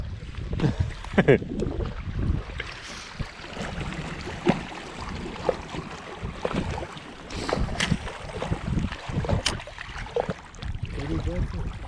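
Strong wind buffets the microphone in gusty rushes over open water, with low rumbling bursts and a few voices faintly underneath.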